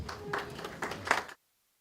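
An audience at a university Lawyers' Day ceremony claps as students rise, with a burst of applause rising and falling in waves for over a second before stopping abruptly.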